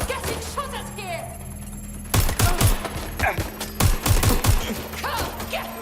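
Gunfire in the video game Watch Dogs Legion: a quiet stretch gives way to sharp bursts of rapid shots in clusters, loud and close, with game sounds around them.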